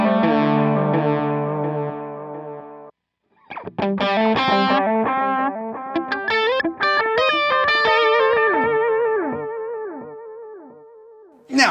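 Electric guitar played through a delay on the transistor tape setting of a Line 6 POD Go, first a sustained held chord, then after a brief gap a run of picked notes with repeating echoes trailing off, loud and alone.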